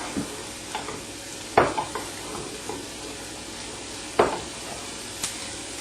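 Noodles tossed in a hot pan with drops of sesame oil and a pinch of red chilies, giving a steady low sizzle broken by a few sharp scraping clatters of the pan or utensil, close and with no talk.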